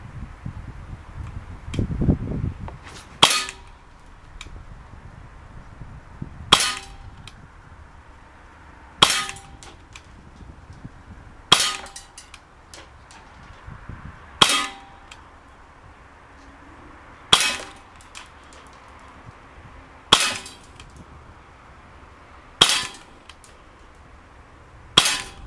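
Daisy Powerline 5502 air rifle fired at a target, nine sharp single cracks spaced about every three seconds over a low steady background hum, each shot close and loud.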